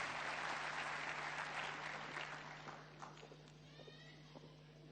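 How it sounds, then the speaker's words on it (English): Audience applause for Principal Secretary Ummi Bashir of the Ministry of Culture at a Kenyan event, a steady, moderately distant wash of clapping that thins out toward the end, with a low steady hum beneath it. "Let us give a big round of applause."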